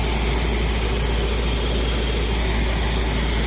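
A Land Rover engine runs steadily at 1700 RPM, a continuous close rumble with a broad even roar that holds level throughout, no talk over it.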